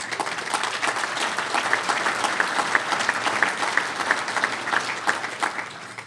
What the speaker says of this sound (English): I got to give yourselves a round of applause.